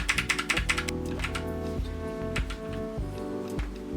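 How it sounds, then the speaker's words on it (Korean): A computer keyboard's Del key is pressed during a PC build to enter the BIOS, a rapid burst of close, crisp key taps at first, then a few sparser clicks over a low steady hum. "다시 델 키를 눌러서 들어가시고요."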